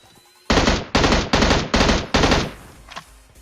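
Loud automatic gunfire from Uzi and M4 weapons in a shooting video game: five rapid, evenly spaced bursts of about half a second each, followed by a faint lone shot and quieter game sounds.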